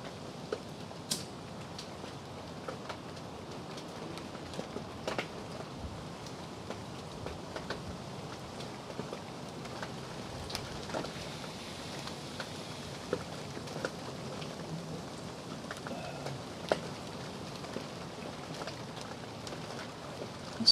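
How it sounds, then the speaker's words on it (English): Steady, medium rain keeps up an even, quiet patter throughout, with scattered soft drips and ticks on nearby surfaces and no voices. "I was hoping that it would rain harder, just getting like a nice steady medium kind of down to it right now."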